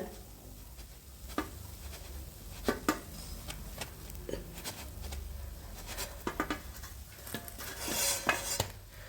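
A vegetable and egg snack being turned over in a pan, with scattered clinks and scrapes of a utensil against the pan and soft frying noise beneath, close and moderately loud.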